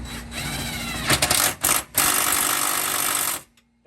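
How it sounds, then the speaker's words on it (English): A power tool zips bolts tight while lowering springs go onto a Gen 5 Camaro SS, with a loud continuous whir broken by a few brief stops before it cuts off. "If you got power tools like I do, you just zip them up in there."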